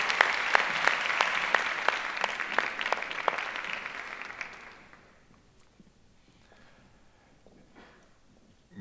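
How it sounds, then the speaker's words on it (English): A conference audience at a medical closing ceremony and awards applauds the winners, a loud, sustained clapping crowd with a few distinct sharp claps standing out, which fades out around the midpoint into quiet room noise with scattered faint sounds. "an applause to the winners"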